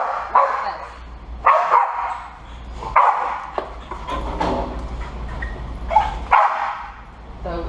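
An aggressive Australian Shepherd barks in repeated sharp bursts, loud and close, with whines between the barks and a person speaking in the background.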